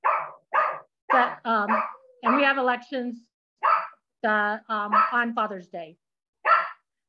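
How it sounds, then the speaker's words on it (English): Dogs bark in short repeated bursts, close and loud, over someone talking at a neighborhood council elections committee meeting. "sorry about the dogs."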